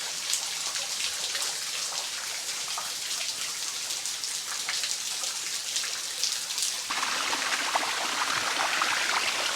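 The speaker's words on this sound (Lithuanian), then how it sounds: "Iš ten išteka šitas vanduo." Cool water spilling out of a hole in the rock and foaming down through moss as a small waterfall near Paphos, Cyprus, a steady close splashing and trickling that grows a little louder toward the end.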